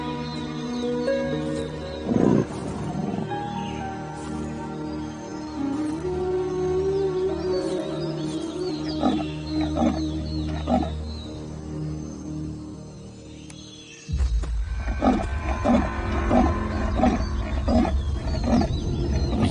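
Big cat roaring in the jungle, deep rumbling roars rising over a dense background of insects and wildlife, with a louder low rumble toward the end.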